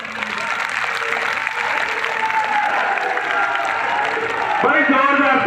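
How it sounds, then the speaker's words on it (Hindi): Loud, sustained crowd applause at a large outdoor farmers' rally with Haryana's chief minister, a dense roar of clapping and cheering that swells toward the end while a voice speaks over a loudspeaker. "एक बार जोरदार तालियां।"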